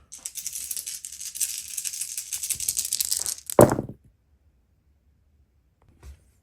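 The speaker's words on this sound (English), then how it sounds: "I'm going to be rolling 5 dice" Five dice rattle in a cup or hand for a tabletop wargame, then clatter sharply onto the table in one close, brief burst, followed by a faint click.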